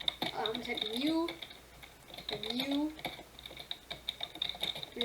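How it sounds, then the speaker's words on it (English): Computer keyboard typing with light, irregular key clicks, heard under someone talking over most of the clip. "I'm gonna type Mew"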